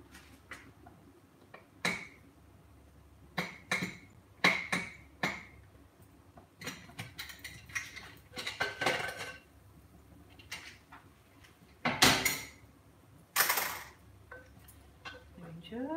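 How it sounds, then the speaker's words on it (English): Opening a pressure cooker holding aloo baingan: scattered metallic clicks and clinks of the lid and utensils, with two brief sharp hissing bursts near the end. Someone talks quietly in between. "I'm just opening the pressure cooker"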